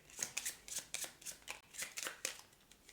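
A deck of cards from the board game Twilight Inscription is shuffled close by in a quick, steady run of crisp riffling bursts, with no talking over them.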